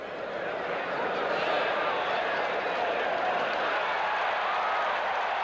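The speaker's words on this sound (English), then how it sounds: "The crowd reacted because they felt it was a clear-cut first down" A stadium crowd at a 1983 Raiders at Seahawks NFL football game roars in a sustained, dense wash of cheering and applause after a first down, steady and loud throughout with no break.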